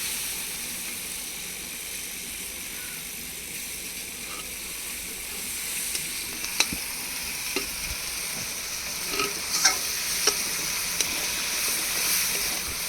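A soft, continuous sizzle of potatoes frying in a pan with tomatoes, with occasional clicks and scrapes of stirring, fairly quiet and without talk.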